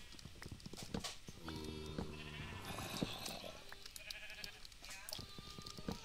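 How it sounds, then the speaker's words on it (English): Sheep bleating in a Minecraft multiplayer survival world, several wavering game bleats overlapping one another above a steady bed of game noise, with a voice talking briefly alongside. "The sheep are trying to run away."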